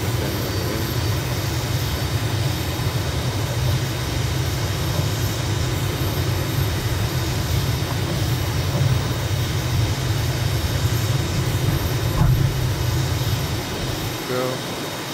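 Steady loud roar of an M339 jet engine on the takeoff roll in a flight simulator, a constant broadband rumble and hiss that holds unbroken and fades slightly at the very end.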